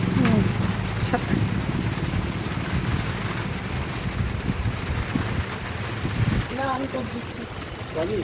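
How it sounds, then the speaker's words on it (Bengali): Rain falls steadily during an afternoon outing on a street near a shop, a continuous dense hiss with scattered faint taps. Indistinct voices and a short tonal sound appear faintly near the end. "ধীরে ধীরে বৃষ্টি শুরু হয়ে গেছে"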